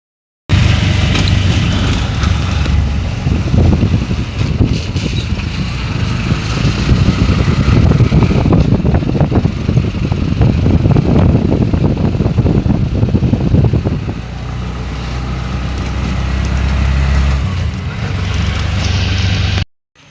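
An auto rickshaw ride toward Mahuli fort near Asangaon: a loud, close engine drones and rattles steadily for about twenty seconds, its pitch shifting as it revs, then settling into a lower idle before cutting off.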